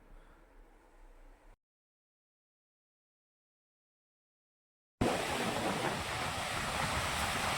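Ocean waves at RK Beach in Visakhapatnam roar in a steady broadband wash after a brief faint stretch and a silent gap, loud and continuous with wind noise on the microphone.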